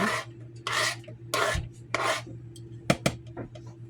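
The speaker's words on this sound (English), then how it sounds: "So let's just scrape the rest of this in." Potato salad ingredients with mayonnaise and mustard scraped off a cutting board into a bowl, several short rasping strokes in quick succession, close and clear with no talk.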